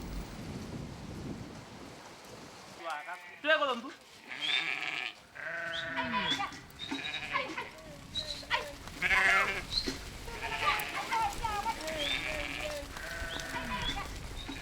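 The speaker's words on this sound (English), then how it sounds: "the goats must be kept together so they don't get mixed up with those belonging to a different clan" Goats bleat repeatedly at a well dug in a dried-up desert riverbed during the dry season, several overlapping calls close by over a low, rumbling background.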